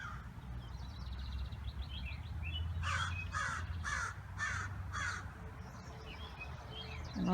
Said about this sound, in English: There's Mr. Crow saying hello.